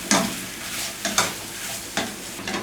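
Meat frying in a pan with tomato sauce, a steady soft sizzle punctuated by a few scraping strokes of a spoon stirring, close and with no talking.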